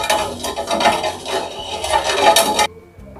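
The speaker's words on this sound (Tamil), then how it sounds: "இப்போ நம்ம நல்லா சர்க்கரையை மிக்ஸ் பண்ணிக்கலாம்." Sugar being stirred into tender coconut kheer in a pot, a steady scraping and clinking of a spoon against the vessel for about two and a half seconds before it stops abruptly.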